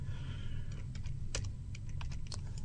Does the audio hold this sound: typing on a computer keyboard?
yes